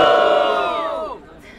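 At a rap battle in Botafogo, a crowd cheers and shouts for a rapper. The loud, sustained roar of many voices fades out after about a second.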